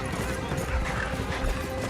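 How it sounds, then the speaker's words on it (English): A racehorse gallops in a virtual race with hoofbeats thudding steadily through a dense, busy mix, with commentary and crowd-like noise layered on top. "Your horse is challenging for the lead."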